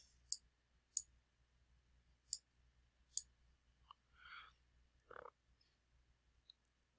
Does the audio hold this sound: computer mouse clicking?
yes